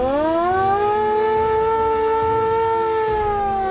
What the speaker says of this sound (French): Il y a même la sirène qui servait à réveiller les gars en cas d'alerte.